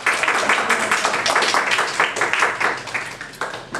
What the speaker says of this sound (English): let's give this team a clap